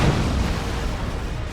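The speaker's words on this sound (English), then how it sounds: "Demolisher cannon going off." Heavy cannon fire from a Demolisher tank in the real-time strategy game Dawn of War 2, a loud booming blast rolling into sustained low rumble throughout the short moment, with no talk over it.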